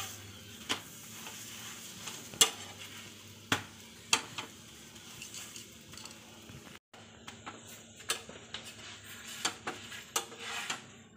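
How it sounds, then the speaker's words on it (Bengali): An ajwain paratha fries in a little oil with a soft, low sizzle, broken by repeated sharp metallic taps and scrapes of a spatula against the pan, close by. "খুব বেশি তেল দিয়ে ভাজবো না, সামান্য তেল দিয়েই ভাজবো"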